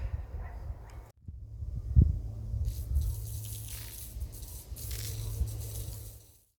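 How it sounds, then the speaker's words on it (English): Water from a garden hose hisses and sprays steadily across garden plants, soaking the beds after a few low handling thumps, then tapers off at the end. "Let's go turn the water on and soak it down a little bit."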